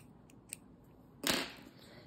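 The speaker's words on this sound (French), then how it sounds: "Je coupe mon fil." Scissors snip through crochet yarn in a single crisp cut, close and brief, after a faint tick in an otherwise quiet room.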